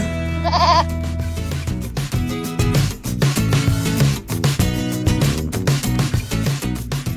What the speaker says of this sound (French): Vous avez une chèvre?